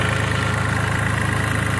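Tractor engine idling nearby while splitting wood, a loud, steady low throb with an even mechanical pulse and no voices.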